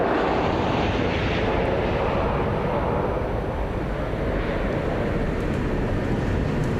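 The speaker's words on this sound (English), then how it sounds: "As you see the A350 revving up there right now." Airbus A350 jet engines revving up at an air show, a loud, broad continuous roar that holds steady throughout.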